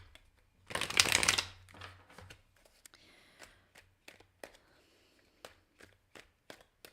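Tarot cards shuffled for a love reading, a loud riffling burst near the start followed by a string of soft, scattered taps and card snaps, with no talking.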